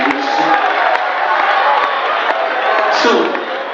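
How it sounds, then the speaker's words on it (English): A campus forum crowd breaks into sustained applause mixed with cheers and whoops, a loud continuous wash of clapping and voices that holds steady throughout. "I think that deserves a round of applause"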